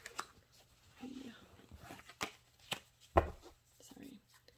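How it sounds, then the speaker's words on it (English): Tarot cards being shuffled in a few quick riffling bursts with scattered card taps, close and moderately quiet, with a voice speaking briefly in between. "Just give it a little shuffle"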